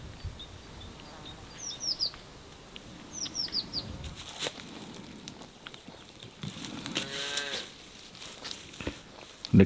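Cows mooing outdoors in a dry swale among oaks while foraging for acorns, a few low calls mixed with bird chirps and rustling.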